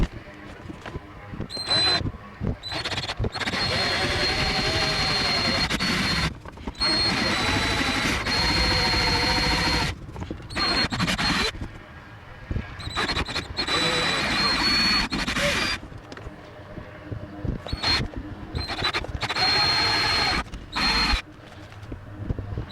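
Power drill boring into a car's dashboard panel near the fuse box, heard as loud, close whirring bursts with short pauses between them.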